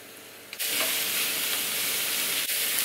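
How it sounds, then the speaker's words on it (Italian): Vegetables sauté with garlic and sweet paprika in a frying pan, made to go alongside tofu. A loud, close, continuous sizzle starts suddenly after a brief pause and keeps hissing steadily. "Andiamo a metterli in padella, li facciamo saltare un attimino."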